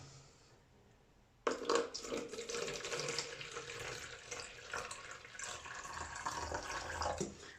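Distilled water being poured into a container for mixing a bleach solution, a steady close splashing stream that starts abruptly and runs for about six seconds before tapering off.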